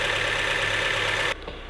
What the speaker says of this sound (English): There definitely is a small belt sound